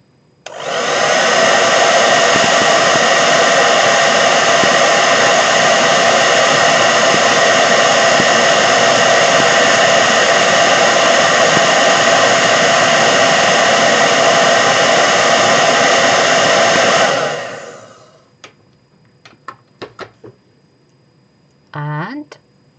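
A hair dryer blows loud and constant at close range for about seventeen seconds while drying handmade decoupage buttons, then shuts off, leaving a few small clicks and a brief voice.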